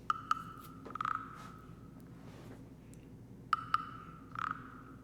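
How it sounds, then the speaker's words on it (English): A frog-shaped wood block gives hollow wooden rasps and clicks in two short bursts, each a quick pair of taps followed by a rattling scrape, with quiet gaps between. "It's like a wood block basically, but it's shaped like a frog."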